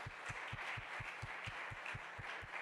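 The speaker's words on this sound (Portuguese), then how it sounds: "Uma salva de palmas para Jesus" A church congregation applauds together, a faint steady wash of many hands with soft, regular low thumps running underneath, heard from a distance without speech.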